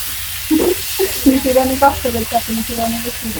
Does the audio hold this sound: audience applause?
no